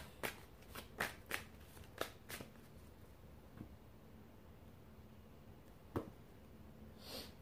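Tarot cards shuffled by hand in a quiet room, a series of crisp riffling bursts with gaps of near silence between them, fairly faint and close, with no talking.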